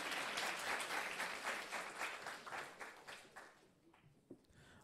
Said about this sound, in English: The bridge itself deserves a round of applause.